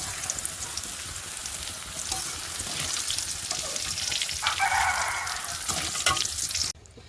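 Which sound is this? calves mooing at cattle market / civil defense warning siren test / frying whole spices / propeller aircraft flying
frying whole spices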